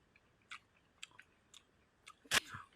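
Raw shiitake mushroom chewed close by, with a few soft, moist crunches spaced irregularly and one sharper bite near the end, quiet and with no talk.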